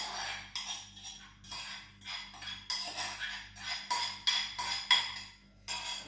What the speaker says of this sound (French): Alors, vous mélangez bien jusqu'à ce que votre mélange blanchisse.